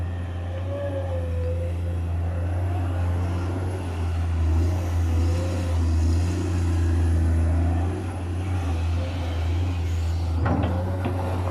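A Komatsu PC210MO excavator with a six-cylinder, 165-horsepower engine digs into hard sandstone, its heavy engine droning steadily and loudly throughout, with a brief clunk of the bucket near the end.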